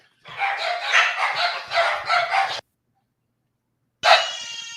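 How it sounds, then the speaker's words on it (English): Several dogs bark loudly and continuously at fireworks being set off nearby, a dense run of overlapping barks for about two seconds, then silence before a sharp burst of barking resumes. "they popping fireworks, and every time they do, these dogs going the heck off"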